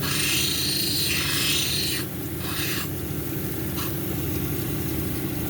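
An indigo gabbro cabochon is ground against a 220 grit wheel, a continuous close gritty rasp over the wheel's steady motor hum, with the stone pressed and lifted in short changes.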